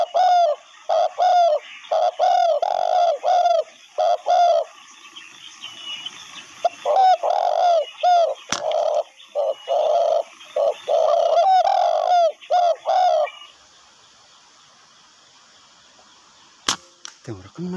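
Spotted doves cooing repeatedly outdoors during a hunt, rhythmic bursts of calls close and clear, with a pause then a few sharp cracks near the end.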